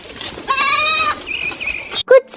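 Goats on a farm bleat in a long, nasal, wavering cry up close, followed by a thinner second bleat and a couple of short, sharp calls.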